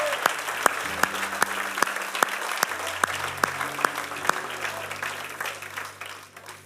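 A church congregation applauds during a sermon, a steady wash of clapping from many hands with a few sharp louder claps, fading slightly toward the end while a low hum runs underneath.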